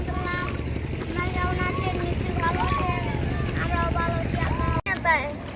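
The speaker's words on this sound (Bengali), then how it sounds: "নদীর মাঝখানে আছি, নৌকা দিয়ে একটু ঘুরতেছি।" A motorboat cruises along the middle of a river in the late afternoon, its low engine drone and rushing water steady throughout, with wind buffeting the microphone and people talking over it.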